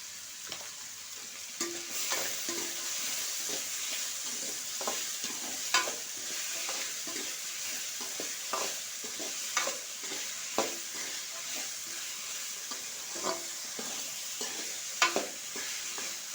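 Vegetables for fried rice are stir-fried in a pan, with a soft continuous sizzle broken by repeated scraping and tossing clicks of the spatula at an uneven, unhurried rhythm, close and alone.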